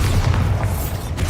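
The Bombarda blasting spell from Hogwarts Legacy goes off as a deep, rumbling boom that fills the whole moment, loud and sustained with no talking over it.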